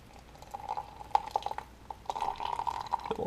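Hot water poured into a plastic and rubber Aeropress makes a soft, close trickle with small splashes and a few brief clinks, growing fuller toward the end.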